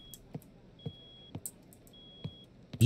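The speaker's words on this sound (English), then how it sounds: "Beeping." A thin electronic beep from a video game sounds three times, spaced about a second apart and quiet, with soft footstep-like thuds and clicks scattered between.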